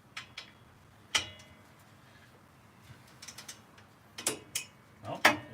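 A long torque wrench set to 59 foot-pounds, used while fitting Powerstop brakes, makes a faint, brief mechanical click, with a few small clicks and knocks scattered around it in an otherwise quiet space.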